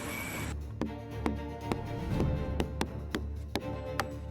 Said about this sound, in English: With axe and hammer, he shapes them to his will.